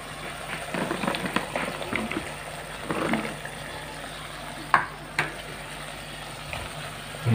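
Melinjo skins being stirred in a frying pan with chicken heart and green chili stir-fry, soft scraping and light sizzle with a couple of sharper clacks of the spatula against the pan.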